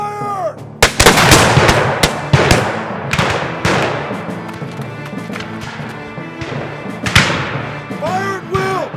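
Repeated gunshots in a western movie battle, sharp loud reports scattered irregularly over several seconds with echoing tails, mixed with shouting voices and other battle noise.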